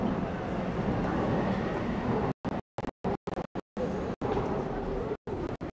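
A Paris metro train rumbles and rattles loudly along the track, the sound cutting in and out in choppy bursts partway through.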